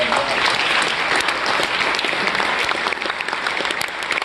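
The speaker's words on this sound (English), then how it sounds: "can you give him a huge round of applause?" An audience gives a loud, dense round of applause for a performer during a Robb Nash Project show, sustained and even for several seconds, with scattered sharper claps standing out from the wash.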